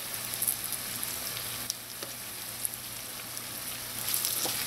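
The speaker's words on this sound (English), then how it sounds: "The garlic and the onions, they're going to caramelize more while the okra is cooking." Okra frying in a pan with garlic and onions over medium heat for a Trinidad-style fried okra, giving a steady, soft, close sizzle with faint crackles and occasional light stirring ticks, no voices.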